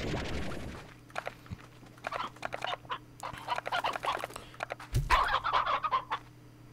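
A chicken in the video game Slime Rancher gives a series of short clucks over a steady low hum, with one louder flurry of clucking near the end.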